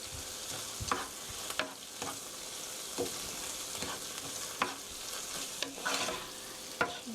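Tomato ketchup and sauce stir-fried in a pan, an even sizzle close by, punctuated every second or so by sharper scrapes and clacks of the spatula, no talking.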